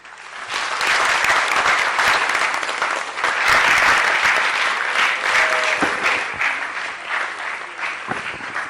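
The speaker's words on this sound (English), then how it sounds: "Another round of applause for her" A crowd at a public event gives a poet a long, loud round of applause that swells after a brief start, holds steady, then eases slightly toward the end.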